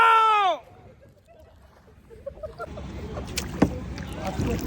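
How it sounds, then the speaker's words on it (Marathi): A kayak is paddled on the water in Goa: after a short voice at the start, soft splashing strokes and water sloshing build up nearby with a few louder knocks. "आता आम्ही बोटिंग करतो."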